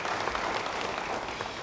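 A church congregation applauding during a sermon, a brief sustained wash of many hands clapping at moderate volume.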